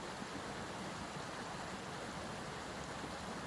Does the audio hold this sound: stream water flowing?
yes